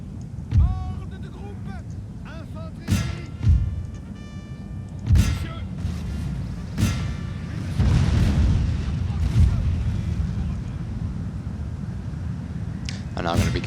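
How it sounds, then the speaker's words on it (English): Musket volleys fired on Prussian Fusiliers in the video game Napoleon: Total War, France against Prussia: repeated heavy booming shots in uneven bursts over a low rolling battlefield rumble. "I'm now going to begin volley fire on his Prussian Fusiliers."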